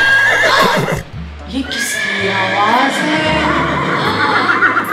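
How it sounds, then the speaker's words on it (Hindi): A horse neighs in a loud, wavering whinny, with a person speaking right before and over it. "ये तो एक घोड़ा है।"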